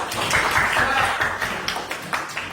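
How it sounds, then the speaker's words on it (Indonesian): Children clap together in a classroom, a brief dense round of hand claps that swells and then thins into a few scattered, sharper claps near the end. "Tepuk tangan untuk kalian"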